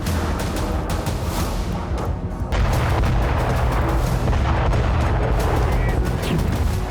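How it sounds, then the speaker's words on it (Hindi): Battlefield explosions as Russian forces destroy a Ukrainian Tor M2 SAM missile system near Avdiivka: repeated booming blasts and rumbling fire, loud and dense, rising into a continuous heavy roar. "अवदीपका में रूसी सेना ने यूक्रेन के Tor M2 Sam missile system को ध्वस्त कर दिया।"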